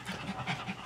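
A puppy pants in rapid, rhythmic breaths, close and fairly quiet, with no talking over it.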